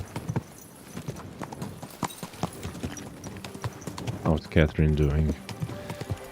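Horse hooves clip-clopping steadily in the video game Kingdom Come Deliverance 2, close and rhythmic, with a voice talking partway through and a brief louder stretch near the end.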